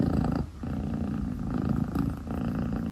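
A cat purrs steadily and close, a low continuous rumbling vibration with slight pulses as it breathes in and out.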